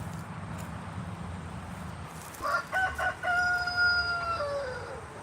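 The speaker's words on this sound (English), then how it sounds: "So many chickens." Several chickens on a farm, with a rooster crowing loudly and close in the second half, a long drawn-out call over a steady outdoor background hum.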